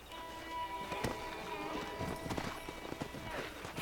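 A horse in Red Dead Redemption walks with steady clip-clop hoofbeats over outdoor game ambience, moderately close and continuous.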